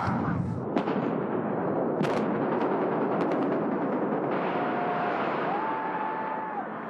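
Ship cannons fire during the Britannia pirate show in Las Vegas: a few sharp booms stand out over a loud, dense crowd-and-show wash, with a faint tone sliding in near the end.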